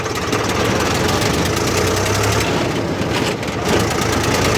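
Tractor engine running before ploughing a field in rural Tamil Nadu, a loud, steady diesel rumble with a constant knocking throb, close and continuous throughout.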